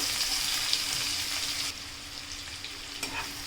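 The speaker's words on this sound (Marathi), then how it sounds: "कांदा मस्तपैकी आपण तेलामध्ये मिक्स करून घेऊयात" Chopped onion fries in hot oil with bloomed cumin for paneer bhurji, a dense close sizzle that drops slightly halfway through as the pan is stirred, with faint scraping.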